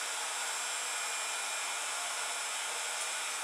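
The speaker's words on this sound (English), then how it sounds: "take your handy dandy heat tool, and you want to go ahead and turn it on" Heat gun running on iced enamel craft powder, a steady, loud broadband hiss of blowing hot air, continuous with no talking.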